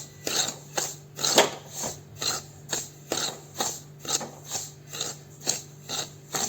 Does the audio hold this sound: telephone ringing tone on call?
no